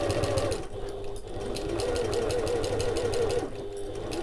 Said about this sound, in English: I'll just pivot and sew my basting stitches